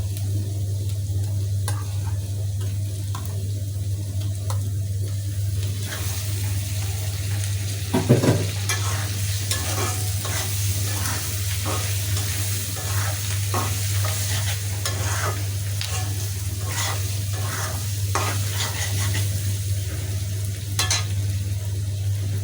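Bitter gourd frying with pabda fish roe, with turmeric and potato in the dish, is stirred in a pan, giving a steady sizzle throughout with repeated scraping strokes and one louder clatter near the middle.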